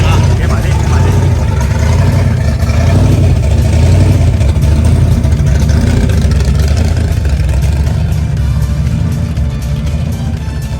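A supercharged drag racing car with its intake scoop on top of the bonnet runs loud and steady at a car gathering, its deep rumble continuous throughout with people talking over it.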